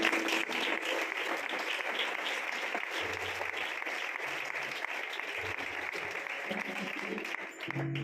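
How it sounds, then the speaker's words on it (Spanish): A church congregation claps together after a sermon reading, sustained broad applause that runs steadily for several seconds, fairly loud and even, with faint low thumps underneath. "Le damos un aplauso a la palabra."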